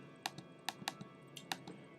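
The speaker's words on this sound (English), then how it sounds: "I'm typing these in as I go." Light, crisp keystrokes tap on a computer keyboard in an irregular pattern of quick clicks, close and fairly quiet, with no voices.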